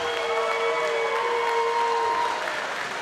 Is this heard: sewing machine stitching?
no